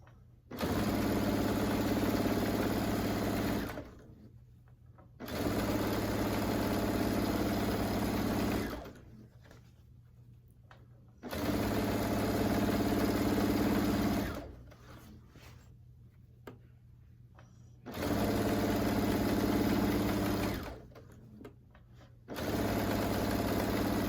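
A sewing machine stitches down the side of a quilt in four long runs, each several seconds of steady whirring, separated by short quiet pauses as the work is flipped.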